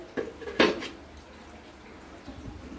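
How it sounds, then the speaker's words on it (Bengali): A metal lid goes onto a pot of simmering hilsa fish curry with two quick clinks, one light and one sharper, followed by a quiet, faintly bubbling kitchen background. "এবার ঝোল একটু ঢাকনা দিয়ে ঢেকে দেবো ঝোলটা ফোটার জন্য"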